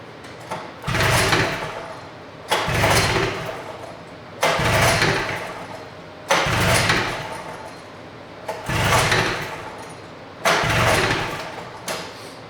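A 1972 John Deere 400 snowmobile engine with a Mikuni carburetor conversion cranks repeatedly without catching, six loud pull-start bursts a couple of seconds apart, each a rough churning surge that cuts off, with no voices.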